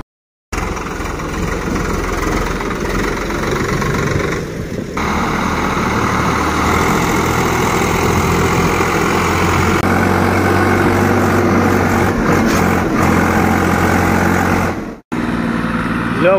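A low, steady tractor engine idle drones continuously with a faint rattling vibration, close by, broken by a brief dropout near the end.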